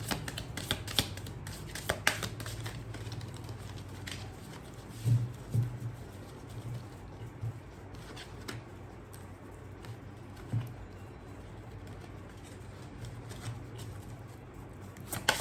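Tarot cards shuffled by hand: soft, quick papery riffles and taps repeat through the whole stretch, fairly quiet and close, with no talking.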